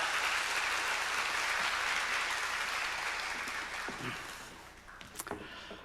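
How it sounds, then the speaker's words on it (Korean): A church congregation applauds to welcome a pastor at an autumn special dawn revival service, a steady wash of clapping from many hands that fades out near the end, followed by brief faint sounds. "2주간 말씀 전해주신 목사님을 우리 박수로 맞이하도록 하겠습니다"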